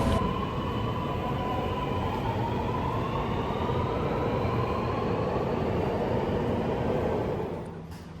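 A Sydney Metro M1 train departs the platform with a loud, steady rolling roar and rising electric whine that holds for several seconds before fading as it pulls away.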